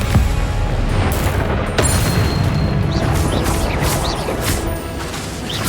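A Confringo spell explosion in Hogwarts Legacy, a loud booming crash with a sharp hit near the middle, followed by crackling magical impacts and a lingering rumble.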